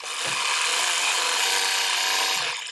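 An embroidery machine stitching a leather piece onto a Kimberbell butterfly pouch, a loud, steady whirring drone running close and unbroken for several seconds with a soft start and stop.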